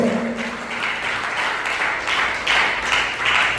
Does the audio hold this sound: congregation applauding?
yes